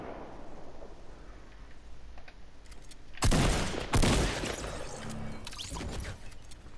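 Video game gunfire comes as bursts of loud shots and blasts, two strong volleys in the middle over a faint background hum.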